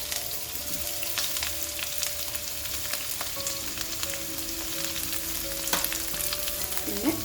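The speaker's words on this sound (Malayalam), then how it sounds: "പിന്നെ പച്ചമുളകും കൂടി ഇടുന്നുണ്ട് കേട്ടോ." Sliced onion and green chillies fry in oil with popped mustard seeds for a Kerala prawn roast, a steady close sizzle with occasional clicks and stirring scrapes, no voices.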